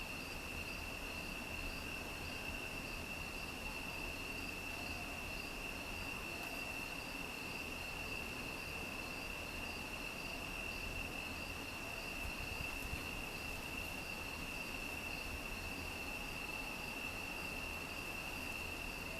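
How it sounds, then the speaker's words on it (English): Steady, dense chorus of crickets trilling continuously on one high pitch, with a faint background rumble and no voices. "the crickets at this hour, they're so loud"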